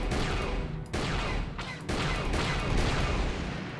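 Rapid rounds of gunfire from a starship turret in Star Wars: Knights of the Old Republic, blasting incoming fighters. The shooting runs as a dense, loud, continuous barrage with brief breaks, and no talk over it.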